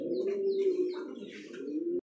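A top-quality Danish pigeon of Pakistani blood gives one long, close, low cooing call lasting about two seconds, alone and clear, ending abruptly.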